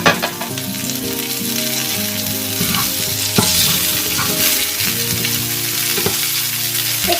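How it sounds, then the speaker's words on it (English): Asparagus sizzles loudly and steadily in a frying pan with pork rib oil, with occasional stirring clinks and scrapes and a faint background hum. "The asparagus I soak with the hot water for 1 minute before I put in the frying pan."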